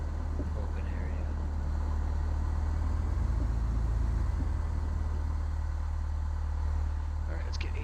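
A Cessna 172 propeller engine runs up for pre-takeoff runway checks, a steady loud low drone with deep rumbling and constant propeller throb close by, holding level throughout.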